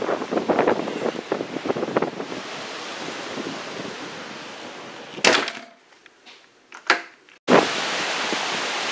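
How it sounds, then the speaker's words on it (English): Powerful hurricane wind gusts roar straight into the microphone on a home deck, a loud continuous rushing buffet that drops away briefly and then surges back hard. "I hope y'all can hear me with this wind."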